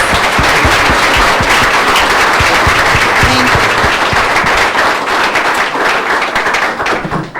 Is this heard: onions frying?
no